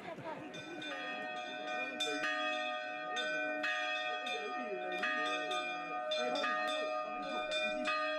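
Church bells ring steadily for the start of mass in Mollières, in overlapping peals, bright and resonant, sounding from a moderate distance with a continuous ringing wash.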